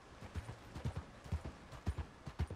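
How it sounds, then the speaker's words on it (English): Hooves of a war horse clip-clop in Red Dead Redemption 2, a steady walking rhythm of soft, close thuds repeating for a few seconds with no speech over them. "like, Mayhem is a war horse"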